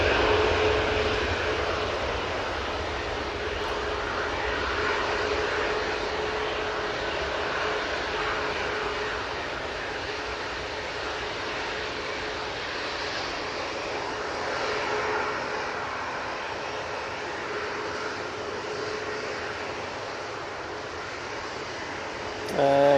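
Ryanair airliner in special livery at Manchester Airport, a steady broad engine roar held at fairly constant loudness for over twenty seconds, with no talk in between.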